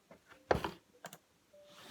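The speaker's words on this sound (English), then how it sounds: "I'm going to shuffle for each placement" A handmade oracle card deck is shuffled in a few quick soft bursts, the loudest riffle in the middle and a shorter one after, followed by a faint steady hum.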